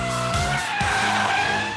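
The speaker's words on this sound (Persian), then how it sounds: "یعنی BMW M3." A BMW M3 squeals its tires loudly under hard driving, with a dense engine roar running throughout.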